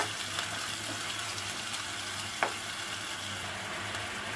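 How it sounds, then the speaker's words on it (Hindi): Pizza sauce frying in a pan on the stove gives a steady, close sizzle with soft scraping as a spoon stirs it, plus one brief clink midway; no talking. "अब हम इसे जो है अच्छे से हिलाएंगे"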